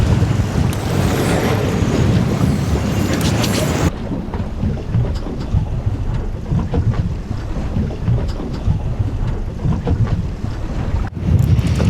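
Strong wind roars continuously across the microphone aboard a fishing boat at sea off Key West during kite fishing for sailfish, a loud, steady buffeting with heavy low rumble throughout.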